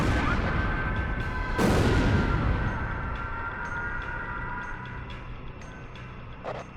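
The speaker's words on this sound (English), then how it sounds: "Initiate bombing sequence. Drop them all. Turn it to ashes." Bombers carpet-bomb ground targets in the Ace Combat Zero flight game: a dense, rumbling barrage of heavy explosions with a loud blast near 1.7 s over a constant roar of engines.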